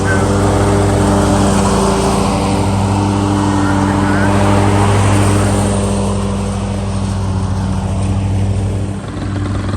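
A lawn mower cutting grass runs close and loud, its engine holding a steady, droning hum with little change in pitch.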